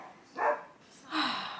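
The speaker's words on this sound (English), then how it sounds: "Barking again, oh my gosh." Dogs barking indoors, two short barks spaced apart, moderately loud and close.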